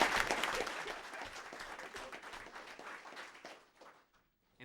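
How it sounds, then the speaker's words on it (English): A school recognition audience applauds the track team; lively clapping starts strong, gradually tapers off over a few seconds, and ends in quiet. "Let's have a round of applause for our track team."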